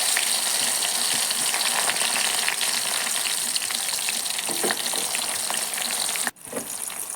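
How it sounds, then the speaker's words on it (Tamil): Curry leaves frying in hot oil, a loud, dense, continuous sizzle close up with faint stirring scrapes, briefly cut by a sharp break near the end before the crackle resumes. "இப்போ கருவேப்பிலை சேர்த்து நல்லா செவந்து வரட்டும்"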